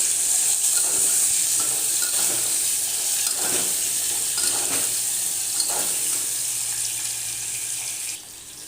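Washed potato pieces fry in hot oil in a pan, a constant loud sizzle with scraping stirs across the middle, quietening slightly toward the end; no one speaks.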